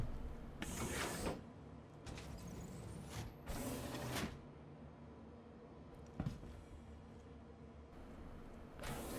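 Salvage cargo box ejecting from a ship in Star Citizen: bursts of hissing, clattering mechanical release over a steady low hum, with a sharp thump near the end.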